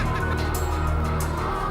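Battery hens crowd a New Zealand battery farm with a steady murmur of clucking and low fowl calls, set against a constant mechanical hum. The sound is dense and unbroken, with no clear individual calls.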